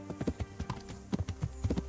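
Horse hooves clip-clopping steadily along the countryside in the video game Kingdom Come: Deliverance, a close, even rhythm of about a dozen distinct clops over two seconds, heard alone without talk.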